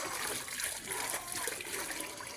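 Mixture being stirred together with water, a steady wet splashing and sloshing that stays fairly close and continuous, with faint trickling throughout.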